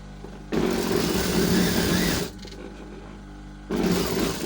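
An electric sewing machine stitches a seam on a garment in two loud whirring runs, the motor buzzing steadily for nearly two seconds, pausing briefly, then starting again, with a low hum between bursts.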